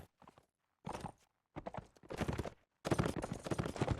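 Saddle horse hooves clip-clopping in a medieval real-time strategy match, a few close bursts of clopping steps separated by short gaps, loud and in the foreground with no talk.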